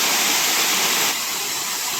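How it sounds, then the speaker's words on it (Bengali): Hailakandi waterfall pouring down steadily, a loud, dense, unbroken rush of falling water close by, with no voices over it. "কিরকম জল পড়ে।"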